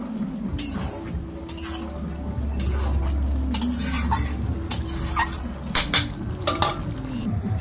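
A spoon stirs small-fish curry in a pan, with soft scraping and clinks against the metal over a faint sizzle and a low background hum, a few sharper taps scattered through.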